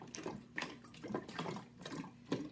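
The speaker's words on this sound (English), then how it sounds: "You can hear the water going." Water sloshes and bubbles inside a shaken container in a series of quiet, uneven gurgling bursts, faint and close, with no voices.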